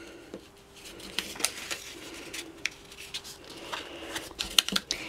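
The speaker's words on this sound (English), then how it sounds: "You take the same size, fold it in two, and back in two again." A paper square folded in two for a graduation easel cap card, with soft crinkling, rubbing and sharp creasing sounds in quiet, uneven bursts.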